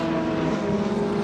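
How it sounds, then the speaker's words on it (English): Single-seater racing cars at Thruxton Circuit drone past with steady, sustained engine notes, a loud continuous tonal buzz with layered harmonics and no pauses. "Wonderful to hear all the different engine notes in these"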